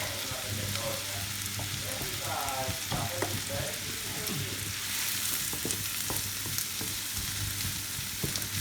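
Diced onion and leek fry steadily in a pan for a prawn and orzo risotto, giving a continuous close sizzle with occasional stirring clicks and a faint voice in the background.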